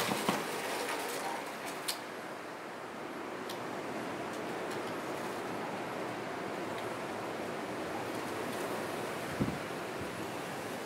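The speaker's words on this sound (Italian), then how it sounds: "È il vento, ragazzi, eh?" Wind blows steadily through an abandoned house, a constant broad rush with a few faint knocks and taps from loose fittings.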